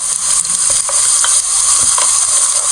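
Onions sizzle steadily in hot oil in a pan while being cooked down to a caramel brown for pilau, with a loud continuous hiss and a few soft stirring scrapes.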